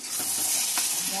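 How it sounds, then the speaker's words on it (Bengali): Mutton braising in a pan for a Bengali curry, a steady close sizzle with soft stirring scrapes running throughout, no voices. "তো এখন এখানে আমার মটনটা কষানো হচ্ছে, জল বেরিয়েছে।"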